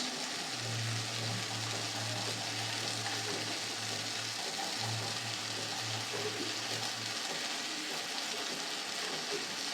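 Masala for a bata fish curry, with turmeric, sugar and ground cumin, fries in a pan as a continuous, even sizzle, with a low electrical hum running beneath it for several seconds.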